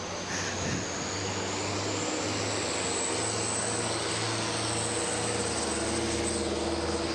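A John Deere 4255 pulling tractor drones loud and sustained at a county fair pull, its engine roar rising slightly in pitch, with a faint announcer voice beneath.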